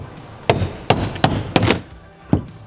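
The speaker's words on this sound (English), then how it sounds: "You guys pulling off with a cat's paw." Hammer blows on a cat's paw prying roofing off during a skylight install: five sharp, separate metallic strikes at a steady, uneven pace, close and loud, with no talk.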